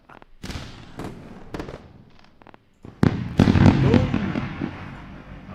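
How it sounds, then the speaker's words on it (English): A fireworks sound effect played during a live trading stream: a quick run of sharp cracks, then a louder, denser burst of popping and crackling bangs that continues to the end, close and loud. "We actually deserve a lovely round of fireworks."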